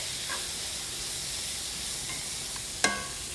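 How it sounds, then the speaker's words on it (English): Meat sears in a pan with bay leaves, garlic cloves and peppercorns, giving a steady close hiss and sizzle with one sharp metallic clink near the end. "And let's go ahead and just sear this off a little bit."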